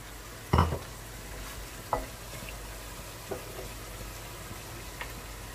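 Green chili is stirred in a pan of Bicol Express over a soft, steady sizzle, with four separate spoon scrapes spaced a second or so apart, the first the loudest.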